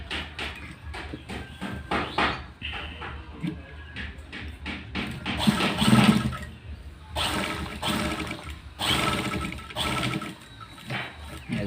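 A sewing machine stitches a new zipper fly onto a pair of pants in bursts of rapid mechanical whirring and clatter, close and fairly loud, with pauses between runs.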